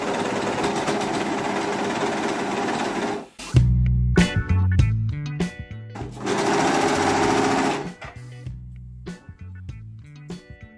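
A sewing machine stitches t-shirt fabric in loud, steady whirring runs, pausing briefly between bursts and starting up again, with no voices over it.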